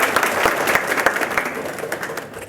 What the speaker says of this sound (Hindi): तो पहले तो आप लोग अपने लिए एक बार जोरदार ताली बजाइए